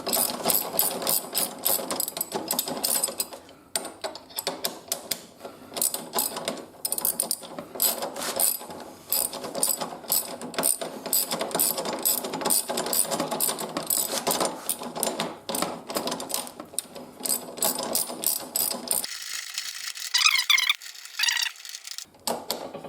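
A ratchet clicks rapidly and repeatedly in bursts while bolts are tightened on the mounts for Givi Trekker Outback luggage cases on a Honda Africa Twin motorcycle, close and loud, with short pauses between runs.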